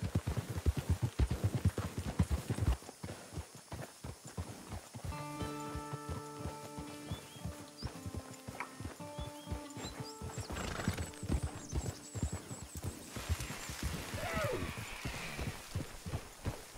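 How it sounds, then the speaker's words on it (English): Horse hooves clip-clop in a steady rhythm in the video game Red Dead Redemption 2, with a horse whinnying midway and a voice speaking briefly over the trotting. "Horse!"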